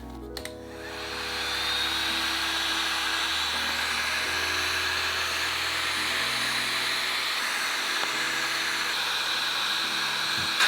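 A heat gun blows hot air onto carbon fiber vinyl wrap film on a BMW interior vent piece, a steady close whooshing roar that starts abruptly and holds with small shifts in pitch.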